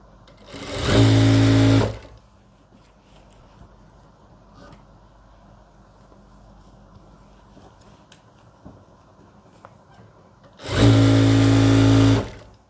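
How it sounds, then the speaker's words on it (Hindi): A sewing machine stitches along stretched elastic on a summer salwar bottom, running in two loud bursts of about a second each at the start and end, with a quiet gap of faint room noise between. "अब हम एक सिलाई लगाएंगे इलास्टिक को खींच के।"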